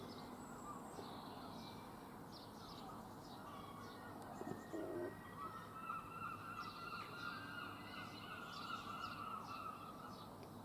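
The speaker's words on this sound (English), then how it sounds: "mainly seagulls" Seagulls calling on a foggy morning beside a road in Glastonbury, repeated cries at mid distance over a steady background hum, with a brief dull thump midway.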